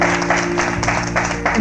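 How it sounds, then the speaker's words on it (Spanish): Applause from a pub crowd at a 1979 rock show rolls on steadily, a dense wash of clapping with a low steady hum underneath throughout. "Es medio raro esto de aplaudir antes que toque"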